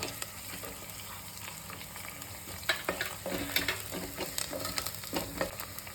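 Native garlic frying in hot oil for a fish curry, a steady sizzle with scattered crackles and stirring scrapes growing busier partway through.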